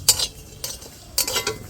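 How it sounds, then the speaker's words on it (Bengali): Whole white cumin seeds dry-roasting in an empty pan, heard as three short bursts of scraping and rattling as they are stirred, with quiet gaps between and no voices. "শুকনো খোলায় মশলাটা ভেজে নেব।"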